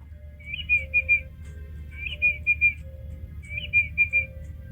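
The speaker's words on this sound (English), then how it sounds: "It's a bird." A giant bird in the video game Fatal Floors whistles in three evenly spaced phrases, each a quick cluster of bright, clipped notes, heard moderately faint over a low background hum with no talking.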